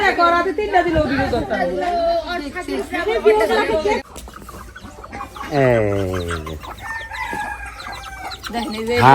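Chickens cluck close by, mixed with a rooster-like crow partway through, while people talk over them.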